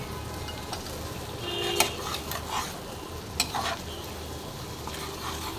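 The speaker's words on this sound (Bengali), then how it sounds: "ফুলকপি আলু যে আলাদা ভেজে রেখেছিলাম সেটা এই তেলের মধ্যে ছেড়ে দেবো তারপরে কিছুক্ষণ আমি দাঁড়িয়ে ভাজবো" Cauliflower and potato pieces frying in hot oil, a steady close sizzle with occasional stirring scrapes and clinks, no voices.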